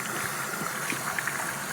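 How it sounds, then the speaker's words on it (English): Tap water runs and trickles while hands are rinsed, making a soft continuous splashing flow with small bubbling details. "Let the water drip."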